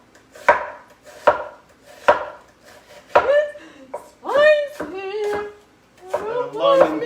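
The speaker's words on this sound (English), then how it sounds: "just me chopping onions with a very large knife on a very large cutting board" Large knife chopping onions on a large cutting board, about four loud, evenly spaced thunking strikes near the mic, followed by people talking over a few more chops.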